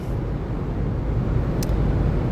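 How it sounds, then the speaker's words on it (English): Inside a car while driving, a steady low rumble of road and engine noise with no voices. "Whatever, I'm in a car."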